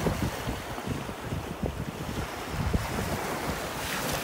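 Ocean waves wash steadily onto a beach in North Naples, Florida, with wind buffeting the microphone; no voices, just continuous surf and gusts close by.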